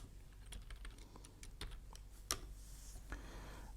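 Computer keyboard typing in a quiet room during Java programming work: a run of light, irregular key clicks, with one sharper keystroke standing out, close and fairly faint.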